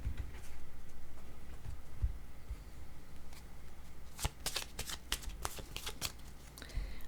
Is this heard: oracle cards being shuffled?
yes